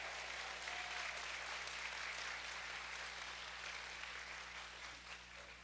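Faint, distant applause from the audience at a U.S. Senate candidate forum fills the room, steady and soft over a low electrical hum, slowly tapering off.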